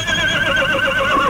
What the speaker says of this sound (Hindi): तुम्हें किसी राह चलती लड़की से इतनी देर तक बातें करते देखकर शायद तुम्हारा घोड़ा नाराज हो रहा है।